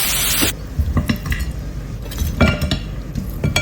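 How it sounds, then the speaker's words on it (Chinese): Chillies and chicken stir-fried over high heat, with lively sizzling and irregular clanks and scrapes of a utensil against the pan at close range. "大火把辣子炒断生，就可以出锅了"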